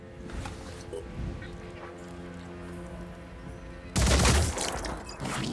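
Return fire from a Deceptor machine gun in the Phoenix Point tactics game, arriving as a loud, dense burst of rapid gunfire that breaks over a steady hum of game ambience near the end.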